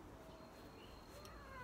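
A pet cat meows faintly a couple of times, with short rising cries against a low background hiss.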